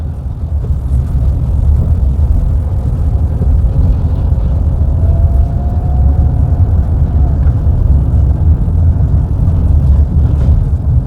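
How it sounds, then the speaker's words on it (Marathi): Heavy road traffic on a highway out of Mumbai near the Kharegaon toll plaza makes a continuous loud low rumble of engines, heard from inside a vehicle without any talk. "प्रचंड ट्रॅफिक आहे."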